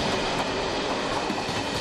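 A passenger train rolls past near the Brno-Židenice station, heard as a steady, dense rumble of wheels and cars with no voices.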